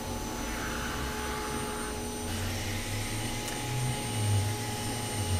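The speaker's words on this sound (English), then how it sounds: "So we've got two kitties we can vacuum." A steady vacuum cleaner drone runs throughout while grooming a cat, with a low motor hum that rises and wavers in pitch near the end.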